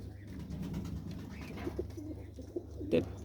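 A pet pigeon in a home loft coos softly amid a steady low background hum, with one slightly louder coo near the end.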